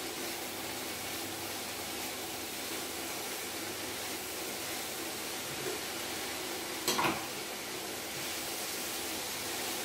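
Vegetables and spinach greens frying in a pan for a low-carb mini quiche, a steady broad sizzle throughout with one brief stir or clatter partway through.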